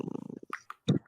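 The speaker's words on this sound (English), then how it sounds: "She sounds like she's angrily purring." A cat purring in rapid pulses close up while cradled in someone's arms, then a few brief chirpy, grumbly sounds.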